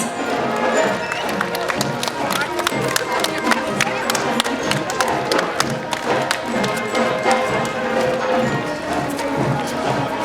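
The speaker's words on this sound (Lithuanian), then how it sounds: "plojimai jiems" Crowd at the Pasienio fiesta 2015 border festival applauding, a dense, steady wash of claps and cheering that runs the whole time, loud and close, with brief voices mixed in.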